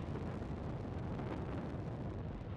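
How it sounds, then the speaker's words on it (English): A SpaceX Falcon 9 rocket lifting off from Slick 4E at Vandenberg Space Force Base in California on the NROL-153 mission, giving a steady, loud, broadband roar that fills the whole clip without a break. "Liftoff of the Falcon 9."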